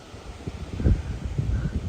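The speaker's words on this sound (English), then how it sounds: "It is a little bit of a windy day today." Wind gusts through hydrangea plants in a garden on a hot July day, a soft, uneven rustle of leaves and low buffeting that swells near the middle and keeps shifting throughout.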